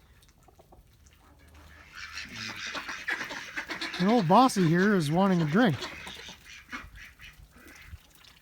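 Ducks quack near a farm water trough, a short burst of several loud, close, rhythmic quacks following a voice that talks over the quieter barnyard background.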